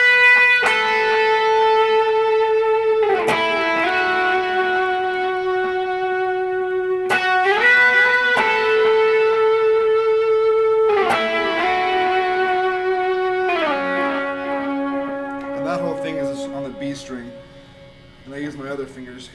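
Electric guitar played through a Boss compression pedal and a reverb unit, sustained harmonic-rich notes sliding between pitches in a melodic line, loud and steady, ending with a few scattered, decaying plucks.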